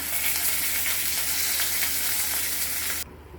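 Bele fish frying in oil in a pan while being gently turned, a steady close sizzle that runs continuously and cuts off abruptly near the end.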